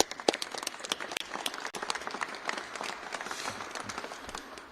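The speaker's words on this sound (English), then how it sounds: "Would you please give him a warm round of applause?" Warm applause from an audience at a Minneapolis public event welcoming a city council member, a few seconds of brisk, close clapping with scattered louder claps.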